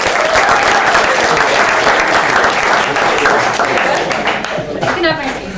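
Sustained audience applause greets a guest speaker at a growth leadership talk, dense and loud throughout before thinning slightly near the end as a voice begins to cut in.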